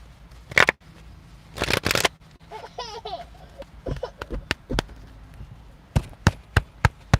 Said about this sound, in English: I'm just shuffling while we got that minute